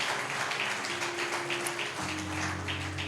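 A church congregation claps together, a dense, steady patter of many hands lasting the whole stretch at even strength, with some faint background tones underneath.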